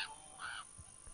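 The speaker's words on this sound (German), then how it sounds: "Kleiner Rabe flog hier auch vorbei." Raven cawing in the survival zombie video game The War Z: two faint, hoarse caws in quick succession, thin and distant, with no voices.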